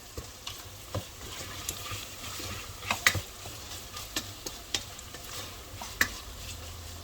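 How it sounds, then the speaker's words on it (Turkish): Meat sautés in butter in a pan for Turkish tas kebab, with a faint steady sizzle and scattered light taps and scrapes of a spoon while it is stirred, quiet and close. "Biraz daha kavurmaya devam edelim."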